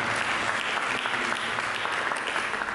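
Church congregation applauding during a sermon, a steady, even wash of many hands clapping, somewhat distant and alone.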